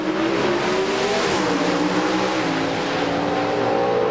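Pro Stock drag racing cars running on racing gasoline, about 1,300 horsepower with 5-speed transmissions, at the 1992 NHRA Chief Auto Parts Nationals finals, make a loud, continuous, unbroken engine roar whose pitch slowly shifts throughout.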